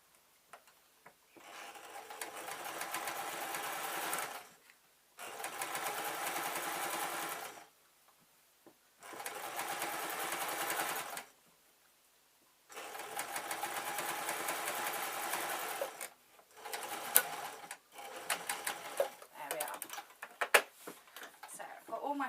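Sewing machine stitching a fleece bootie slipper in several separate bursts of a few seconds each, stopping and starting, close and clear with quiet gaps between runs.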